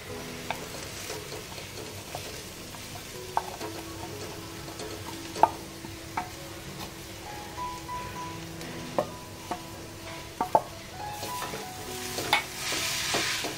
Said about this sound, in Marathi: याच्यामध्ये आता गूळ घालून घेऊया, म्हणजे खोबरं आणि गूळ हे एकत्र छान असं भाजलं जाईल।